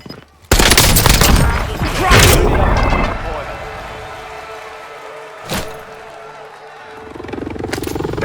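Gunfire in the Warzone battle royale on the Verdansk map: a loud, dense burst of rapid shots up close, then a quieter lull broken by a single sharp crack and another burst near the end.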